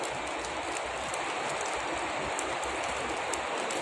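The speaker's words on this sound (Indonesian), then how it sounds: "Inilah penampakan bila mana hujan di pagi hari" Steady rain falling on a stadium roof in the morning, heard from beneath the roof frame inside the stadium, as a dense, even hiss that holds at a constant level throughout without a break.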